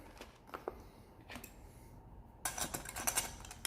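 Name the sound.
mixing grated Parmesan into wing sauce in bowl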